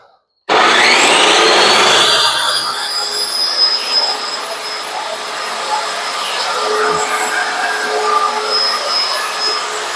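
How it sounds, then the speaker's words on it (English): A power saw bites into a 4x4 wooden post to cut pockets, starting abruptly with a loud high whine that settles into a steady, slightly wavering cutting roar for the rest of the clip. "we're going to turn the saw on, lift that end up, and we're just going to push it the length"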